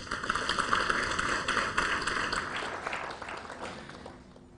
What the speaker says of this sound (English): Welcome him with a round of applause